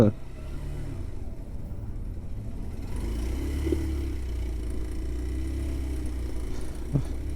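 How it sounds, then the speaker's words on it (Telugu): Heavy road traffic with lorries queued on a bridge in Bihar: a steady low rumble of idling and slowly moving engines, close by, with occasional clatters and a faint horn-like tone near the end. "ఈ ట్రాఫిక్ చూడండి అసలు ఎంత దారుణంగా ఉందో"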